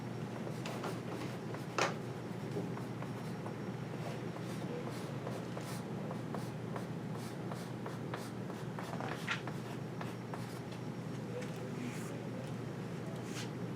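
Pen or pencil writing a quick side note during a math lecture on reduction of order, scratching faintly and steadily in short strokes with a few sharper taps, close to the mic and otherwise quiet.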